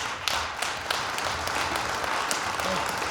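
Scattered clapping and applause from a crowd at a school district deliberative session patters steadily for a few seconds, with some voices mixed in.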